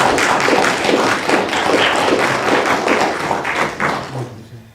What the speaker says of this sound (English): So if you would all give our board a hand around the applause.